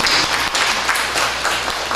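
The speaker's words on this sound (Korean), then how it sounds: "우리 고강진 집사님 위해서 큰 박수 드립니다" Big round of applause for a church deacon during a congregation's worship service, steady dense clapping filling the room throughout the short stretch.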